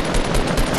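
Gunfire in the video game Fortnite, a loud, continuous burst of rapid automatic shots, close and dense, lasting under a second.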